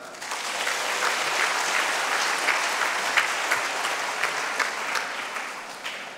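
Applause from a church congregation after a Catholic Mass at a choir gathering, a dense, steady patter of many hands clapping that swells and continues for several seconds, with no talking over it.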